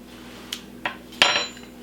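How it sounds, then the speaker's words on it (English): A spoon dropped into a pot of vegetable soup, three sharp metallic clinks with the last loudest and ringing briefly, close and quiet with no talking. "Drop the spoon, delicious."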